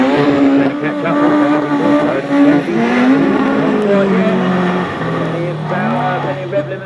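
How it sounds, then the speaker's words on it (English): Autograss race cars at a dirt-track meeting in Cambridge, engines revving hard and bouncing off rev limiters in sustained, wavering tones, with a commentator talking over the din throughout. "plenty of rev limiters getting used there."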